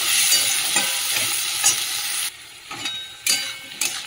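Diced potato and onion frying in a pan, a loud, close, steady sizzle broken by a sudden drop and then short bursts of sizzling as the food is stirred.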